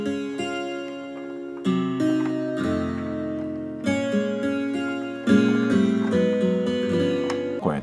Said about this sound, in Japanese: 12弦ギターの音でこの最初からデフォルトで入ってるみたいなあのギターの音、